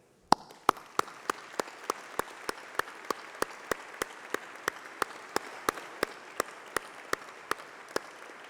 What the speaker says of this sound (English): let's have a round of applause for all those special people, your family, your friends, your tutors